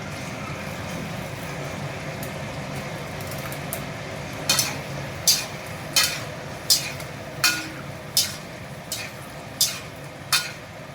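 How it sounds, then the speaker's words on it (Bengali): Onions frying in a pan in a home kitchen, a steady low sizzle running throughout, with a series of about nine sharp scraping clinks of a spatula stirring against the pan at a slow, regular rhythm in the second half. "পেঁয়াজগুলো হালকা একটু নাড়াচাড়া করলেই হয়ে যাবে।"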